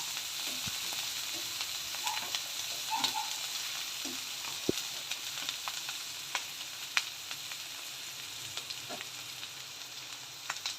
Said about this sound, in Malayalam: അപ്പോൾ ഇതൊന്ന് ഫ്രൈ ആയി വരട്ടെ.